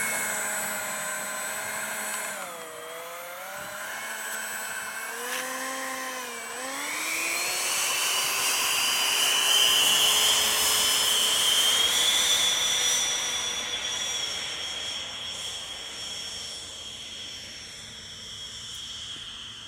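An RC model jet airplane flies past with a steady turbine-like whine that rises and falls in pitch, swelling louder mid-pass and then fading, heard alone without talk.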